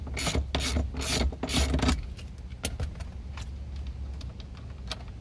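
A ratchet wrench loosening the steering wheel nut on a Jeep Grand Cherokee, heard close up as a fast run of clicking pawl strokes that gives way to scattered metallic clicks and handling noise.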